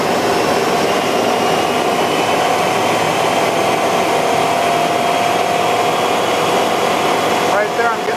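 A 1997 Chevy Silverado pickup engine holds a steady, loud roar at 2,500 rpm with a constant whine, continuous throughout without pauses.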